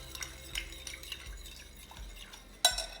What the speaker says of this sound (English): So we'll mix this vinegar nicely in this.